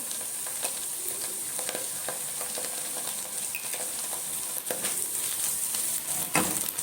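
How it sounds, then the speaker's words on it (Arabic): Garlic sautéing in a pan for a pasta dish: a steady, close sizzle and crackle of frying, with occasional stirring scrapes and no talk. "هديله بس كده ايه تشويحه بسيطه لحد بس ايه ما ريحه الثوم تطلع"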